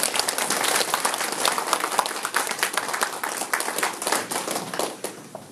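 Enthusiastic clapping from the audience at a Buddhist college entrance ceremony at Samhwasa temple in Donghae, loud, close and sustained, with distinct sharp hand claps across the whole stretch.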